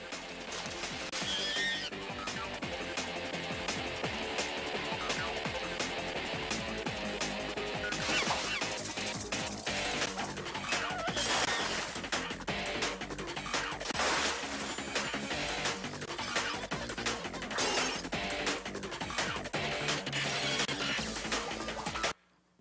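An action scene from the Powerpuff Girls movie, loud and dense throughout, with a busy soundtrack, rapid crashes and impacts piling on top of one another before it cuts off abruptly.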